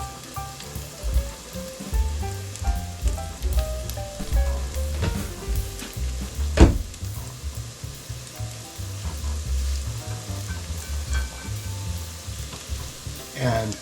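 A breakfast bowl mixture squeezed from a tube sizzles steadily in a hot skillet as it is worked across the pan, with scraping stirs and a sharp clack partway through, all fairly close and without talk.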